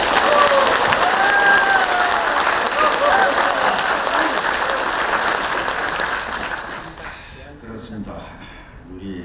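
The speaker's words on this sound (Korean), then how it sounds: "박수 한번 쳐주세요." Audience applause at a Korean national forum on reforming the veterans affairs ministry, loud sustained clapping from a crowd that gradually thins and fades toward the end.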